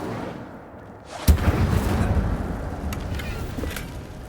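The Incendio fire spell is cast in a Harry Potter video game: a sudden thump is followed by a loud, sustained roaring whoosh of flames that slowly fades.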